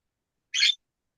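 A single short squawky call from a pet bird, close and isolated, lasting a fraction of a second amid silence.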